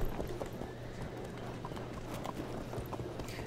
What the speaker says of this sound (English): And now let us move these javelin horses up